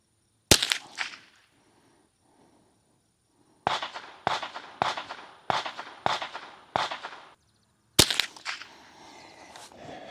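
Gunshots from other shooters at an outdoor shooting range crack out sharply: one isolated shot, then a rapid string of six evenly spaced reports, then another, moderately loud with short decaying echoes.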